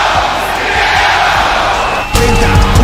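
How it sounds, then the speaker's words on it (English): Wrestling crowd at a Lucha Bros match roaring and chanting loudly throughout, swelling into a louder burst of yelling and cheering near the end with no talk over it. "Oh, that was very loud with the whole crowd chanting Cero, Miro"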